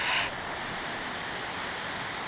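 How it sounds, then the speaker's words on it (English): A river rushes beneath a trail bridge in the Black Forest, a steady broadband roar of water that holds constant throughout, with a brief brighter hiss at the start. "the noise of this river from up on top of the hill"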